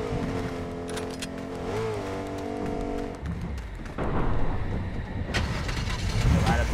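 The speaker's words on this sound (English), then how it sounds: "I hear a car, I hear a car. Driving up right now." A car approaching and passing close by, engine noise swelling and falling back, with a second louder rush near the end, heard outdoors with no talk over it.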